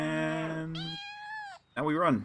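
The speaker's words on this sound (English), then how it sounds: "I hear the cat" A house cat gives a few clear, close meows, a long rising cry followed by a shorter bent one, with a person speaking briefly between them.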